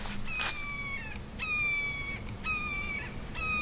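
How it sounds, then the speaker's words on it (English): A red-shouldered hawk calls outdoors at a homestead, giving four clear, evenly spaced, drawn-out descending cries over a steady background hiss, each call fairly loud and carrying. "Oh, that's a red-shouldered hawk. That sound."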